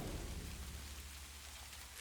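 A steady wash of rain pours down with low, deep thunder rumbling beneath it, a constant dense ambient storm with no voices.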